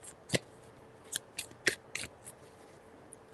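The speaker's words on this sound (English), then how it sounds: "3 shuffles." Tarot cards are shuffled by hand, giving soft papery riffles and sharp flicks in an irregular rhythm of several quick bursts, close and quiet with no talking.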